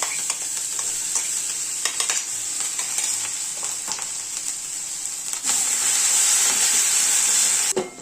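Curry leaves and a ground chili paste hit hot tempering oil for kadhi and sizzle loudly and continuously, close by, the hiss swelling even stronger partway through before cutting off.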